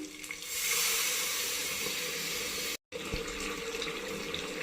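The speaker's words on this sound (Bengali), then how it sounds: "এখন দিলাম জল।" Water pours into a pan of cooking meat, a loud rushing splash that swells to a hiss, then a brief cut and continued bubbling sizzle.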